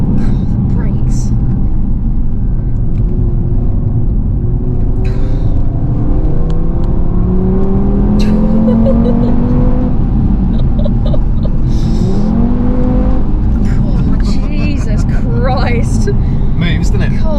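Audi TT RS accelerating hard from a 30 mph zone up to national speed limit, a steady engine drone with rising gear tones from inside the cabin, continuous and loud under people talking.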